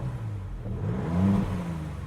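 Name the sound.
Maserati MC20 engine starting and revving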